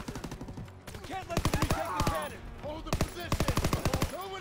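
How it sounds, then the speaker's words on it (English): Mounted machine gun firing in the Call of Duty: WWII video game, rapid bursts of sharp shots in several quick volleys with brief pauses between them, fairly close. "Use MG and defend that."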